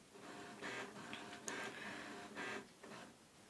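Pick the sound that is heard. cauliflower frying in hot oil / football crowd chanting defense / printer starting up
printer starting up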